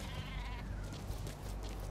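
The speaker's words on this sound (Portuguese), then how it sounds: "Ovelha assassina!" Sheep bleat in the survival video game Metal Gear Survive, wavering cries over a constant low game rumble and ambient noise, with no speech.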